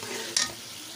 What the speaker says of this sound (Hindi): थोड़ी देर इसको फ्राई करना है आपने